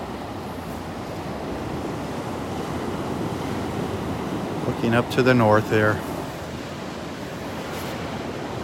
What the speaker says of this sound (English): I'm going to let you listen to the waves for just 1 minute here before I sign off